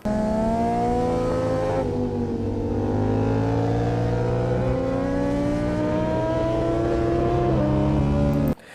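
A Triumph Daytona and a Yamaha R7 race on a track, engines wailing at high revs with rising and falling pitch as they shift gears, loud and sustained before cutting off abruptly.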